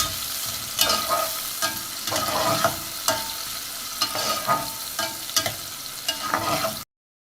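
Garlic cloves, a large onion, chopped green chilies and bay leaves fry in hot oil, giving a continuous close sizzle broken by repeated scraping stirs and clacks, with no voices, then cutting off abruptly.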